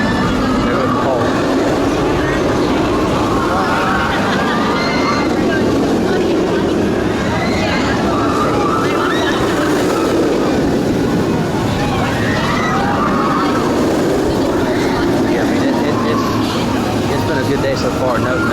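The Hulk roller coaster at Universal Islands of Adventure roars past as a broad, continuous rumble that rises and falls over the whole stretch.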